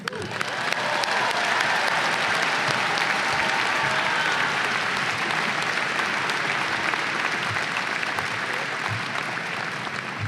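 Sustained audience applause at a fall commencement ceremony welcoming the keynote speaker, a dense, even wash of clapping from a large crowd that holds steady for about ten seconds.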